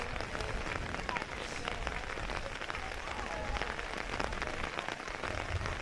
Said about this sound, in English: rain is supposed to stop in 10 to 15 minutes